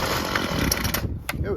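A free curb-find Homelite weed trimmer's small two-stroke engine sputters to life and revs harshly for about a second before dropping off, close and loud, with a voice exclaiming over it.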